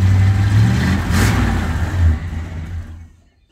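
The engine of a 1970 Plymouth Fury barn find, running for the first time since 1997, revs loud and close with a rough mid-range roar, swells once more, then falls away to near silence.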